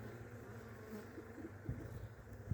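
Honeybees buzzing around split beehives on a mild December day in Adana, a steady close drone of many wings with a few louder passes near the end, no talk.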